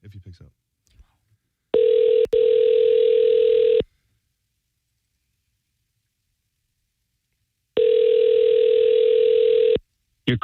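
A telephone ringback tone heard while calling a number: two long, loud, steady electronic rings about two seconds each, separated by a long silence, with a short burst of sound at the very start.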